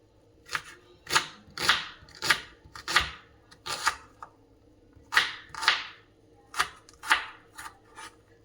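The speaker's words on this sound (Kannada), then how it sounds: "ಮೊದಲಿಗೆ ಈರುಳ್ಳಿಯನ್ನು ಕಟ್ ಮಾಡೋಣ" An onion being chopped small with a knife on a board: close, crisp strokes in short bursts of two or three, about a dozen cuts with brief pauses between.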